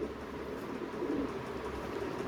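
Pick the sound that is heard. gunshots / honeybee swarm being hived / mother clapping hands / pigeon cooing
pigeon cooing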